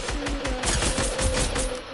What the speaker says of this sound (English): You missed the gun shot, kid.